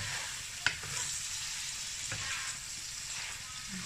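Braised prawns being turned in a wok after simmering under a lid, giving a steady close sizzle with a brief scrape or clink near the start and soft stirring sounds throughout.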